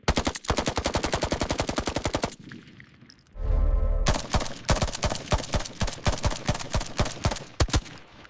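Staged army firefight with rapid automatic gunfire in loud, close bursts of evenly spaced shots. A brief lull gives way to a heavy low blast, then slower single and clustered shots follow.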